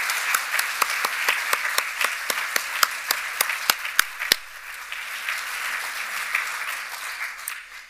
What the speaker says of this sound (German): bitte nochmal einen Applaus für Sie, weil das wirklich großartig war.